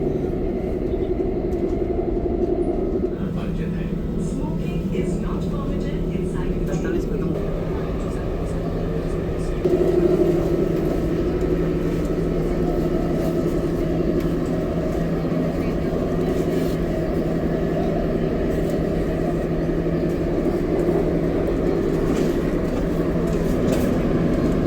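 A metro train running along the track, a steady low rumble and hum that continues throughout, growing slightly louder partway through, heard up close from inside the carriage.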